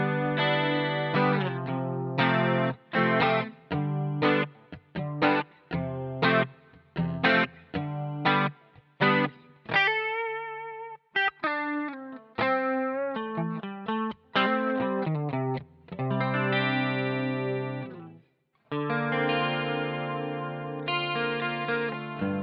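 Electric guitar played alone through a Boss GT-1 multi-effects unit with a clean, shimmering tone colored by chorus and echo effects, picked chords and arpeggiated phrases with brief pauses between passages.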